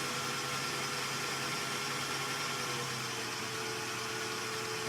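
A Kenwood kMix stand mixer whisks cake batter for a birthday cake, producing a faint, steady motor whir with no speech over it.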